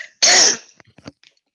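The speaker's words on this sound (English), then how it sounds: "Coughing. That's just coughing." One loud, harsh cough bursts out near the start, followed by a few faint clicks and rustles in an otherwise quiet room.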